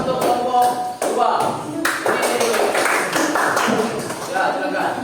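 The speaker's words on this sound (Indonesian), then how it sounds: "Tepuk tangan untuk kelompok 2." A group claps in scattered, uneven bursts nearby, a short round of applause with a voice speaking over parts of it.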